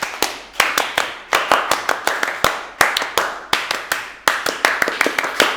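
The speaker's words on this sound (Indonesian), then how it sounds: "2 kali tepuk Pramuka." A group performs the Pramuka scout clap, sharp, loud hand claps struck together in quick rhythmic clusters separated by short pauses, repeating the pattern several times.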